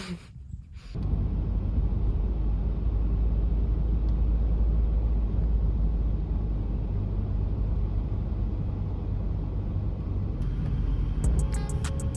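Steady car engine drone and road rumble from inside a moving car, continuous and fairly loud after a brief quieter start, with faint clicks near the end and no talk.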